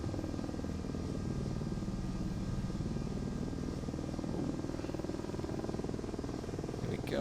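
Ka-50 coaxial-rotor helicopter in the DCS game spooling up for liftoff, a steady dense engine and rotor drone with a low throbbing beat, loud and unbroken throughout.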